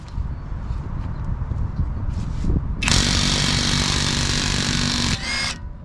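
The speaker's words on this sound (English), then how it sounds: "we've got our impact wrench ready to rock" A pneumatic impact wrench on high power removes the front spindle nut of a 2006-2011 eighth-generation Honda Civic during a wheel bearing and knuckle job, hammering in one loud sustained burst of about two and a half seconds after quieter workshop sounds.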